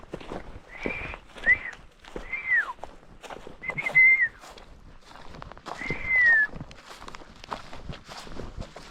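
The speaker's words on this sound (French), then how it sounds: "Je siffle, il s'en fout," A person whistles several short rising and falling notes in separate bursts, fairly close, with footsteps and rustling underneath.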